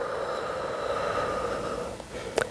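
A long, steady exhale during a power yoga session, held as a rounded-back stretch, ending in a short sharp breath or sniff near the end.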